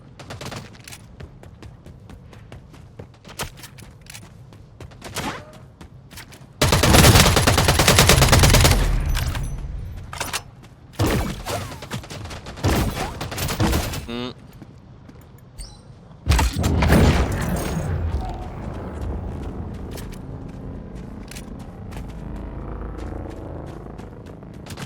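Bursts of gunfire in the futuristic extraction shooter game EVE Vanguard, with rapid volleys and rumbling booms that come and go in loud clusters over a busy game soundscape, with no voices.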